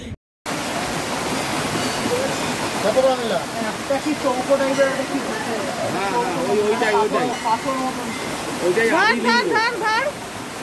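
Waterfall at Panchalingeswar near Balasore, Odisha, which flows over five Shiva lingams, gives a steady broadband rush that runs through the whole clip, with people talking over it much of the time.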